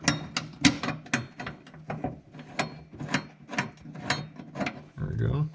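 A wrench ratchets a bolt onto the backing plate of a Valkyrie Engineering lithium battery kit, making a quick series of sharp mechanical clicks, close and fairly loud, with a brief duller rattle at the end.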